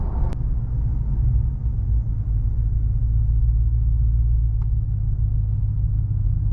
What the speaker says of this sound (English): get up to speed so you can hear the noise level inside with the 35 inch tires